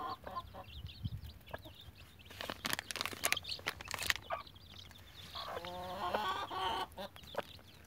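A hen clucks in short, uneven bursts among five-day-old chicks, whose higher cheeps and peeps come through close by, with scuffling and scratching and a louder flurry of activity midway.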